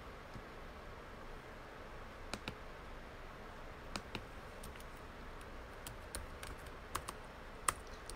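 Steady typing on a computer keyboard, rapid soft key clicks with a few louder taps over a faint background hiss, close and continuous.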